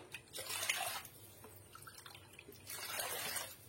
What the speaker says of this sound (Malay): Okey, kita ambil 2 cawan air.